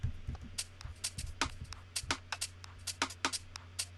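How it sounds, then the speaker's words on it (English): Drum loop from a MADLOUD pack for a bouncy UK garage beat: a shuffling pattern of crisp hats and snappy hits over a steady low bass hum, moderately loud and alone. "Next up, we've got this drum loop from MADLOUD,"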